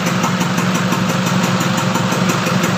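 A Nissan Elgrand engine idles after sitting unused for about two years, giving a loud, close, steady rumble with a fast pulsing throb and slight rough knocking.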